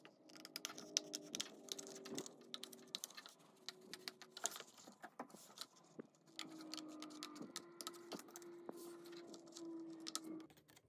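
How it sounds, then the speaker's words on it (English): Paper scissors snip along the line of a paper teddy bear pattern, giving a quiet run of small crisp cuts and clicks close up, with no talking. "then use your paper scissors"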